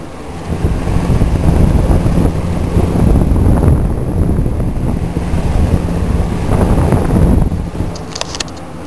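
A vintage Lakewood K-mart K-223 box fan runs steadily, pushing a loud, constant rush of air with a low hum underneath, heard from a short distance with no talking over it.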